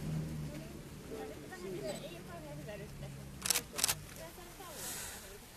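Two quick camera shutter clicks in close succession under outdoor ambience among cherry blossoms on Miyajima, with a voice speaking quietly nearby.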